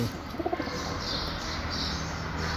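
Pigeons give a few soft coos early on, fairly close but faint, against a steady hiss of background noise, with no voices.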